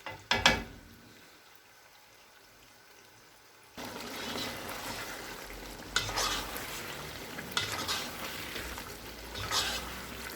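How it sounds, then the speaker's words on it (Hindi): Chicken for biryani cooking in a pan: after a few quiet seconds a loud sizzle bursts in and holds steady, with scraping stirs rising through it at intervals. "अब हम चिकन को 10 से 12 मिनट तक के लिए पका लेंगे।"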